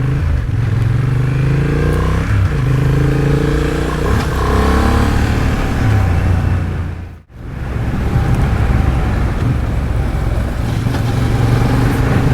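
Honda Hornet CB750 motorcycle riding at highway speed, a loud continuous engine drone mixed with heavy wind rush, with a brief sharp dip in the noise midway.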